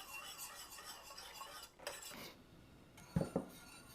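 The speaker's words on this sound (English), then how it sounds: "I'm going to switch to my whisk." A whisk scrapes and clinks against a pot of vegetable soup sauce for an Afghan ash noodle soup, with faint stirring for a few seconds and two sharper metallic knocks near the end.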